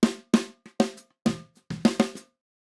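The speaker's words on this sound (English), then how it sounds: "This is the sound of a snare drum through the top microphone only." Snare drum captured through the top microphone only, struck in a loose pattern of sharp, punchy hits with a few lighter ghost strokes, close and dry, each decaying quickly.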